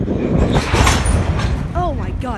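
CSX local freight train starting to roll, heavy rumble and metallic clanking of railcars close by, with high screeching wheel squeals near the end and a voice talking over it.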